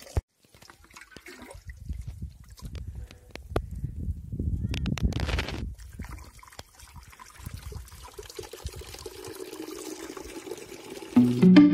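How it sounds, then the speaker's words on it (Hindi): Water pours and trickles into a container at home, meant to be carried to a water heater, with splashing that swells and fades and some clattering, and no talk. "तो गाइस, यहाँ पे पानी भरा जा रहा है"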